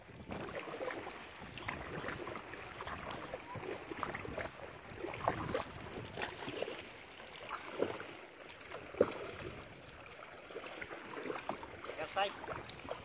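A small boat is paddled by hand without a motor in an oyster-gathering area, faint irregular water splashes and strokes under wind noise and occasional talk.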